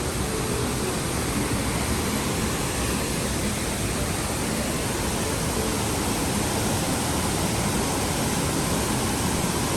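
Steady, dense rush of falling water from a waterfall at Ginzan onsen, a hot spring town in a mountain valley, heard from a red bridge; loud, continuous broadband roar filling the whole stretch with no voices.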